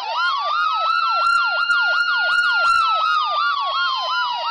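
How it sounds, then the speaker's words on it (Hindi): A loud, close ambulance siren in a village wails in a rapid repeating up-and-down pattern, heard on its own with no talking. "अरे ये एम्बुलेंस क्यों आई है गांव में?"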